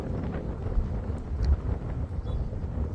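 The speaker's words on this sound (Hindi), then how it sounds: "आपको हवा की आवाज आई जो कितनी हवा चल रही है" Wind gusts across the open water at Kaliyasot dam, a rough, buffeting roar against the microphone that swells and fades with no speech.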